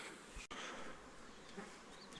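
A honeybee swarm buzzes steadily around a wooden Japanese-style hive box outdoors, a dense continuous insect hum that stays close and even throughout with no speech.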